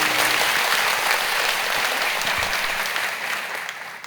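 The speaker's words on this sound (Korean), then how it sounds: "하나님께 영광의 박수 올려드리시겠습니다" A church congregation applauds in praise, a dense, loud burst of clapping from many hands that fades gradually over a few seconds, with no voices over it.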